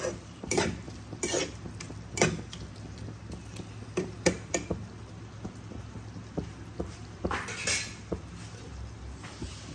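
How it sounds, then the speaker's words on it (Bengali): Onion, garlic and tomato are sautéed in a pan while a utensil scrapes and clatters against it. Irregular close, light knocks and scrapes sound over a soft, steady background. "দেখো পেঁয়াজ রসুন টমেটো যতক্ষণ পর্যন্ত না মজে যাবে ততক্ষণ পর্যন্ত আমি এটাকে কষাতে থাকবো।"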